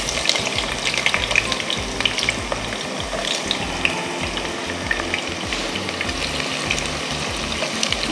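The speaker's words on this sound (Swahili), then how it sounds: "Nitavikoroga mpaka vile vianze kutengeneza ule kama brown." Chopped onions sizzle and crackle steadily in hot oil in a pot during home cooking, with occasional scraping of a stirring spoon, close up and continuous with no talking.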